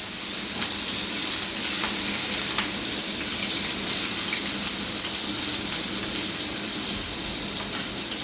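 Sliced onion, bay leaf and cardamom sizzle in hot oil in a pan for Bengali-style chicken kosha, a steady hissing fry that stays even and close throughout, with a few faint clicks and no talk.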